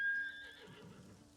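A short horse neigh in the video game Ghost of Tsushima rings out near and clear, then trails off into a low rumble, with no talking.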